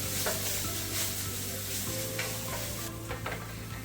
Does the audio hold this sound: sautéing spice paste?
yes